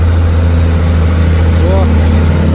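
Hino Dutro truck engine on a hill road, a loud low rumble steady throughout, with a brief faint whine near the end.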